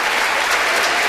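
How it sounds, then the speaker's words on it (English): A short, loud burst of dense applause fills the House of Representatives chamber, continuous and crowd-sized with no voices on top. "You can applaud that."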